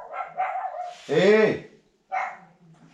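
A small dog gives a few sharp, close yips and barks, with one loud bark standing out, mixed in with a person's voice.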